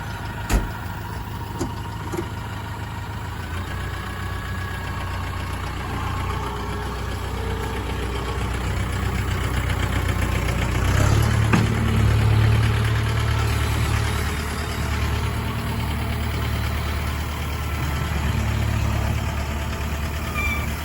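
A heavy farm tractor engine idles steadily nearby, a low continuous rumble that swells slightly midway before settling back.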